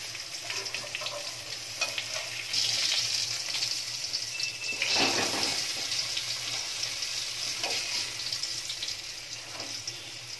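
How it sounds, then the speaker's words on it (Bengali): Small diced potatoes fry in the oil left over from frying brinjal in a pan, giving a soft steady sizzle with a few brief clatters of stirring and no talking. "এবার বেগুন ভাজার যেটুকু তেল রইল এই তেলেই দিয়ে দিলাম আলু কুচিগুলো।"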